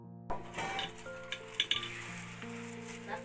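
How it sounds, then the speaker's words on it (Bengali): Potatoes frying in a pan alongside meat give a soft, steady sizzle, with clinks of a utensil stirring against the pan and faint kitchen clatter, heard close with no talk. "ওই যে এই মাংসের আলুটা ভাজছি"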